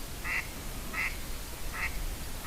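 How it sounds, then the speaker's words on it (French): Ducks quacking on water in a forest setting, three short distinct quacks spaced about every three-quarters of a second over a steady low outdoor rumble. "les canards sont toujours là"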